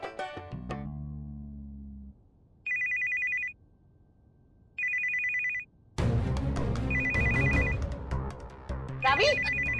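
A telephone rings in a home in two clear, evenly spaced electronic bursts, then rings again under a sudden swell of background music and voices.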